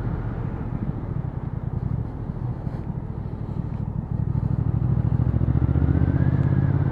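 A Triumph Speed Twin 1200 twin-cylinder motorcycle engine runs with a steady low, throbbing pulse, idling smoothly and swelling slightly louder toward the end.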